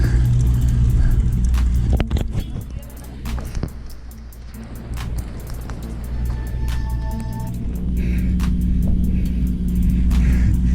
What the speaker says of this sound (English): This car is slower than our bike